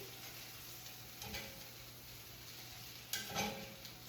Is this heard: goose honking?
no